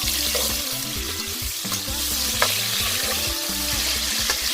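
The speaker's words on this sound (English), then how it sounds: "So we're gonna start frying tomato and onion." Tomato and onion frying in a pot that still holds the flavor of fried chicken, giving a steady, close sizzle with occasional stirring clinks and no talking.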